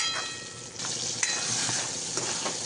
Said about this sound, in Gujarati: સરસ રીતે હલાવશું.